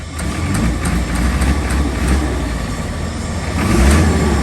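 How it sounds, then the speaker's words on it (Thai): A remapped car engine revs with a throaty roar that builds gradually and swells louder near the end, heard up close without voices. "ดู จังหวะคันเร่ง นะ มันเสียงจะขึ้นช้า"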